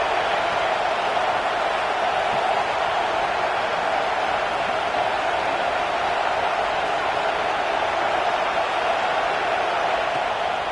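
Stadium crowd noise in the NCAA 26 college football video game; a loud, constant wash of massed cheering and roar that holds steady throughout with no distinct voices standing out.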